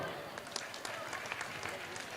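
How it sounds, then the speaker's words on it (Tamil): Faint, distant applause from a crowd at a prize-giving for team sports competitions, a soft continuous patter of hands under voices speaking. "கைதட்டுங்கப்பா"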